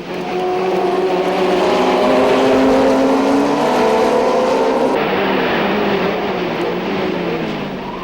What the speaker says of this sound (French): le rugissement de tous ces moteurs est impressionnant